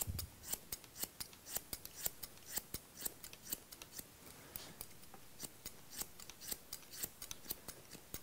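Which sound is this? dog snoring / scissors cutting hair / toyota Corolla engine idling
scissors cutting hair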